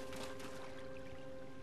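Character wading into water in The Legend of Zelda: Tears of the Kingdom, a soft steady pouring, splashing wash under a low tonal game hum, quiet and continuous with no talking.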